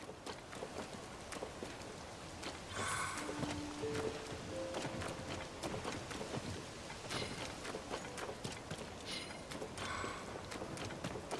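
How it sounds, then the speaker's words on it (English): Rain falls steadily in the Zelda: Tears of the Kingdom game world, a continuous soft patter with scattered droplet ticks and brief tonal game blips partway through. "Rain is the worst thing in this game."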